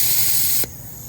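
Air hissing sharply out of a flat tire valve at close range, a loud steady rush that cuts off abruptly after about half a second, leaving a faint residual hiss.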